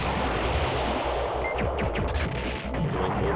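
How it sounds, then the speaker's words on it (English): Explosions rumble continuously in the video game Silent Bomber, a loud, dense barrage of booms and crackling blasts layered over a steady roaring din. "on, more explosions!"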